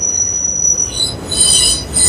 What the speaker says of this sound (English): you hear the train over our head?